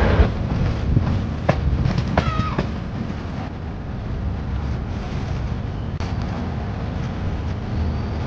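Train travelling from Visakhapatnam to Chennai, heard from inside as a steady rumbling roar with a few sharp clicks and rattles early on, no speech.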